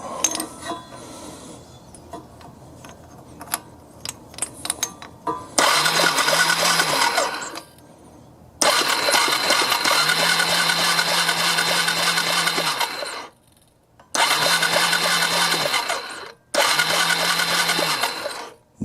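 A Yamaha Bear Tracker ATV with no spark is cranked repeatedly without starting. The starter whirs loudly in four bursts, each a few seconds long, with short silent pauses between them and some faint clatter before the first.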